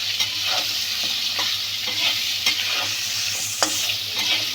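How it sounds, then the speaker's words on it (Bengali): Pointed gourd (potol) fries in oil with rock salt and a little turmeric while a spatula scrapes and stirs it. A steady close sizzle runs under regular scraping strokes, with a low hum behind it. "আপাতত পটল ভাজি হচ্ছে"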